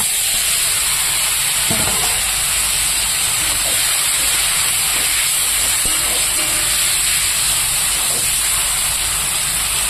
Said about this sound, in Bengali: এবার মাছটাকে আমি ভেজে নিই